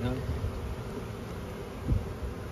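Honeybees buzz steadily around an opened beehive outdoors, a dense close hum with faint wind and handling noise.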